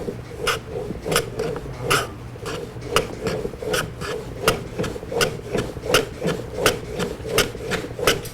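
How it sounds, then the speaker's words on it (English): A hand plane trimming wood ends on a shooting board, with a steady rhythm of rasping strokes about two per second, close and fairly loud, with no voice. "It's a shooting board. This is for trimming ends."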